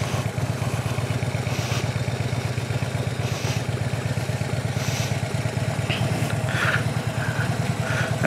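A motorcycle creeps along slowly with the clutch held in the friction zone, its engine a close, steady, rapid low-pitched putter, with faint clicks and rattles in the background.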